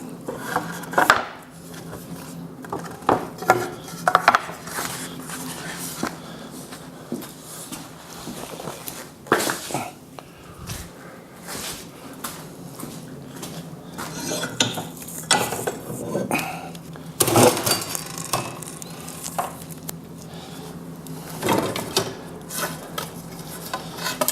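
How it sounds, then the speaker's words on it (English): Dry Douglas fir and larch kiln stickers being cracked and snapped in a break test, giving irregular woody knocks, creaks and sharp cracks throughout, with several louder snaps. "let's go on to our break test and see how these things crack and break"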